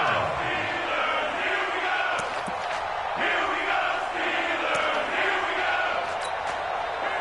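A stadium crowd roars in an American football video game on PS4 ahead of a big third down. The sustained cheering and hollering sits under a commentator's talk.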